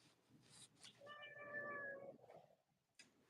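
A pet cat named Cleo gives a single drawn-out, tonal meow, close by and fairly quiet in a calm indoor room, with a few soft clicks and shuffles around it.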